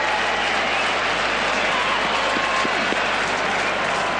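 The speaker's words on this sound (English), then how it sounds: "the crowd are getting behind Haka" Football stadium crowd at a 2001 Champions League qualifier between Haka and Liverpool in Finland, roaring and cheering in a steady, loud, continuous wash of noise with no break.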